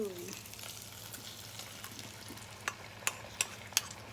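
A quiet sizzle of bacon and sausage fried rice frying in a pan, punctuated near the end by a few sharp metallic clinks.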